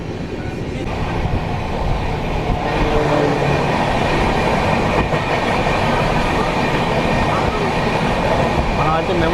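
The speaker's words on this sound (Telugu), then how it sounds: "మనం అయితే మెమో ట్రైన్ అయితే ఓవర్టేక్ చేస్తున్నాము." An express train rumbles and clatters at speed while overtaking a crowded MEMU train, heard from inside with steady wheel-on-rail noise and a continuous loud drone throughout.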